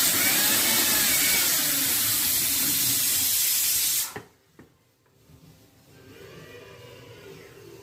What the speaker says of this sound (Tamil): இப்போ மிக்சியில் அரைச்சிக்கிறாங்க